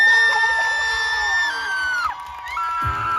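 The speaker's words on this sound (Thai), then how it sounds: "ขอเสียงปรบมือต้อนรับ ดัง ๆ" A live audience at a Thai music show cheers, whoops and shouts to welcome a singer to the stage, a dense, steady crowd roar with shrill, sustained voices rising over it.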